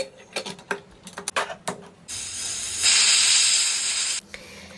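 A pressure cooker cooking rice and potato lets out a loud, steady hiss of steam that starts abruptly and holds for about two seconds, preceded by a few light clicks and taps.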